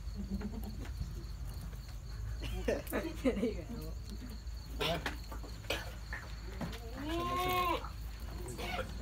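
A 1.5-month-old Punjab-breed baby goat bleats several times at a dairy farm, its wavering cries rising over a steady background hum with people talking nearby.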